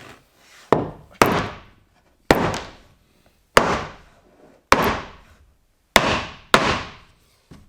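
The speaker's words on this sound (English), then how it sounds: "just literally going to give it a couple of taps so that the nails will mark" Hammer taps nails into wood for marking in a few sharp, close knocks, some in quick pairs, with quiet gaps between them and no talking.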